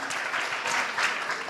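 A live audience at a personal-finance event claps continuously, a dense, even wash of many hands, with no voices over it.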